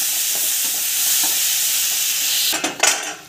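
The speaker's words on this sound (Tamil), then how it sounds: "நல்லா வதக்கிக்கணும்." Tomato and other ingredients sauté in a hot pan, giving a steady loud sizzle, then a few close scraping stirs and clinks of the spoon near the end, no talk.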